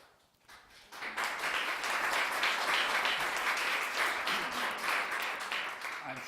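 Audience applause at a Rancho Murieta Association community meeting, rising suddenly after a quiet moment into dense, sustained clapping from a roomful of people.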